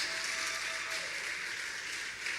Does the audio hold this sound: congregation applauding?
yes